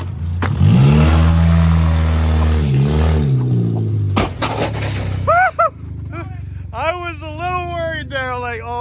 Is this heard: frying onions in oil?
no